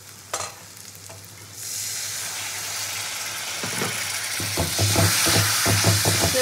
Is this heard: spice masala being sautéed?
yes